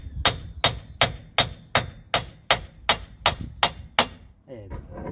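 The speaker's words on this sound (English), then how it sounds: "we're gonna put the nut back in and just gonna tap it." A hammer tapping a nut on the hub of a Ford Transit CV joint, ten sharp, evenly spaced metallic strikes close up, each ringing briefly, then a short rattle at the end.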